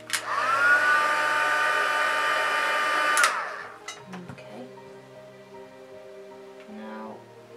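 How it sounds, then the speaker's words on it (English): A heat tool blasts a steady, loud whoosh for about three seconds while setting paint, then cuts off, leaving quiet handling sounds and soft clicks up close. "give it another little dab and heat set that again"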